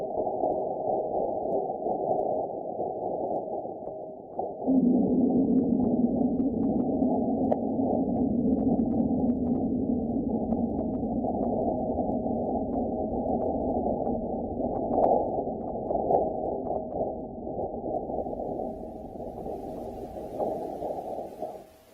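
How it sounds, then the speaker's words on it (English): NASA InSight seismometer data from Mars is played back as sound: a steady, droning low hum runs throughout and thickens into a rumbling surge after about five seconds, fading near the end with no voices. "you can listen closely to the sounds of Mars"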